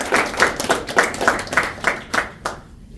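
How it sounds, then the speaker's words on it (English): A small audience at a Toastmasters club meeting clapping in a short burst of distinct, fairly close claps, fading out after a couple of seconds. "Let's clap for it."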